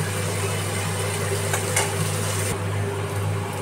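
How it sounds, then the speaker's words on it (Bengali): Pieces of gathi taro fry in a pan with a steady, close sizzle that continues throughout, with no talking. "চলো কচু লাল লাল করে ভাজাবো"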